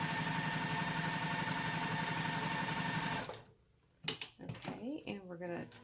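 Home sewing machine stitching a scant quarter-inch seam on a shamrock wallhanging quilt, a steady fast mechanical whir for about three seconds, then it stops and someone talks.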